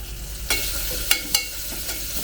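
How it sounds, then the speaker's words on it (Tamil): Onions sauté in a pan for biryani with a continuous soft hiss, broken by three sharp scraping clicks from a spatula. "வெங்காயம் பொன்னிறம் ஆகிற வரைக்கும் நான் வதக்கிக்கிறேன்."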